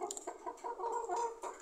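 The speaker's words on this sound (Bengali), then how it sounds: "কালো মুরগিটা এখন পর্যন্ত ডিম পারে নাই, ডিম পারার জন্য বসছে" A black hen settling down to lay eggs gives soft, close, repeated clucks and low murmuring calls in a brief run.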